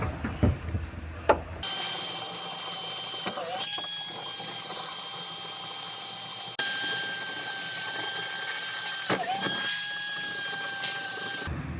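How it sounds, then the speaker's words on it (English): A power drill whines at a steady pitch for several seconds, pausing briefly a few times as it drills out spot welds on a car frame rail, close and continuous. "I already drilled pilot holes through all of the spot welds, and I'm gonna go ahead and drill those out"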